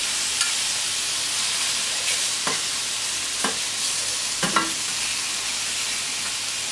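Mushrooms with garlic and parsley persillade frying in a pan, a steady dense sizzle with a few soft spoon scrapes and taps, close and constant with no talking.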